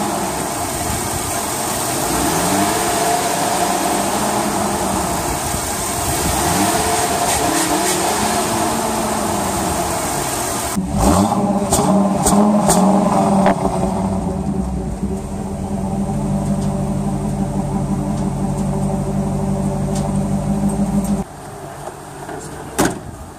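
A 2004 Ford F250 Super Duty pickup with a 5.4 liter V8 Triton engine, loud and close, cycling through repeated revs before dropping to a steadier idle-like drone.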